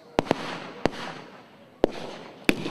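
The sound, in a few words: reenactment rifle, machine gun and artillery fire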